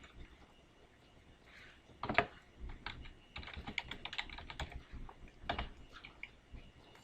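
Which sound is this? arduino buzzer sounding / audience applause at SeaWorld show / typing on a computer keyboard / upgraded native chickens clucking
typing on a computer keyboard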